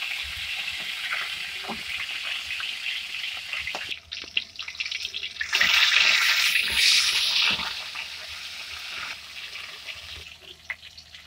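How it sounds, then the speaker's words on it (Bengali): Rohu fish heads sizzle steadily in hot oil in a pan, a continuous crackling hiss that swells louder partway through as pieces are turned. "আমি এটা রুই মাছের মাথা দিয়ে ভাজি করছি"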